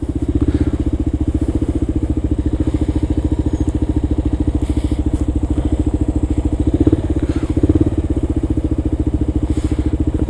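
A Honda four-stroke scooter engine idles on a New York City street, a steady, close, even pulsing throb that holds for the whole stretch, with a couple of brief louder surges near the end.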